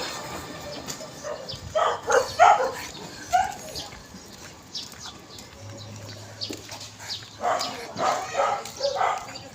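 A dog encountered on an outdoor walk barks in short bursts, with a cluster of sharp barks early, a pause, then another run of barks, moderately near, while birds chirp faintly in the background.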